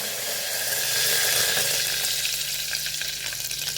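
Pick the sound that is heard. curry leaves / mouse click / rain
curry leaves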